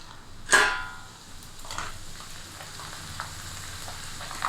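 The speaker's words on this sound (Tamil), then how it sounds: "அடுத்தது நம்ம கொஞ்சம் கொஞ்சமாக இப்படி போட்டு ஃப்ரை பண்ணி எடுத்துக்கலாங்க." Flattened rice (aval) dropped into hot oil in a pan at home, giving a sharp burst of sizzling that settles into a steady, soft frying crackle with light stirring, no voices.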